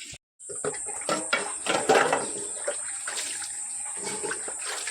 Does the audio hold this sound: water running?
yes